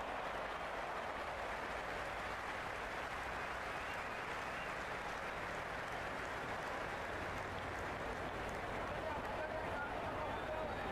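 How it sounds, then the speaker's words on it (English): A dense, continuous roar of a large cricket stadium crowd cheering at a Zimbabwe vs West Indies World Cup match, steady throughout with a faint voice mixed in. "Will you listen to that crowd? They are loving this."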